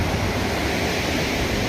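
Sea waves roar steadily along the Ganjam coast near a deserted village, a dense, continuous wash of surf with a breezy hiss.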